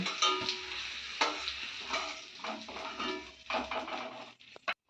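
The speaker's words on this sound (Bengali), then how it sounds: "আলুগুলো ভালো করে নাড়াচাড়া করে লাল লাল করে ভেজে নেব" Potato pieces are stirred and fried in oil in a kadai for an egg and potato curry, with close sizzling broken by irregular spatula scrapes and stirring bursts and a sharp clink at the end.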